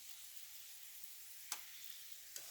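Oil sizzles gently in a pan over a low gas flame while herbs cook in it, a faint steady hiss broken by two tiny pops.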